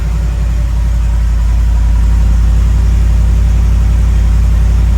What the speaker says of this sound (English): one thing about this Shelby Super Snake truck is the exhaust